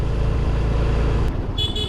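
A car horn honks in a short series of toots over the steady engine and road noise of a moving car on a road in Krabi, Thailand, close and loud, with no talking.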